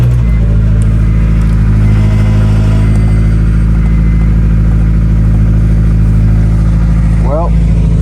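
A car engine fitted with new Flashark headers, the exhaust flange not yet cut, runs loud and close in a steady, rattly low rumble, with a brief blip of throttle near the end.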